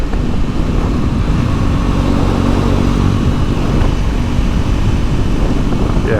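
Triumph Scrambler 400X single-cylinder motorcycle engine cruising at around 6,000 revs, a steady continuous drone with wind rush, heard from the rider's position.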